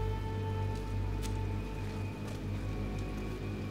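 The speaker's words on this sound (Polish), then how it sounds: "Leje." Steady pouring rain hisses continuously, with a few louder drops spattering close by.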